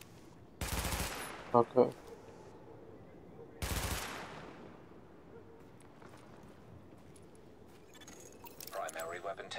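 Weapon fire at a shooting range in The Division tutorial: two short bursts of loud gunfire, separated by quieter rattles and clicks, with brief talk nearby.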